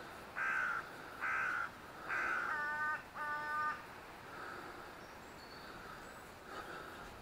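Crows nesting on a coastal cliff give four loud, harsh caws in a regular series, then fainter calls carry on against quiet wind.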